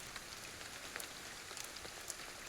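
Steady rain falls in the video game Ghostwire: Tokyo, a faint, even hiss dotted with scattered soft drop taps, with no voices.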